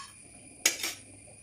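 A pan is set down on the stove for a Kerala-style masala paste, giving one short close metallic clatter followed by a brief rattle as black pepper goes in, against an otherwise quiet kitchen.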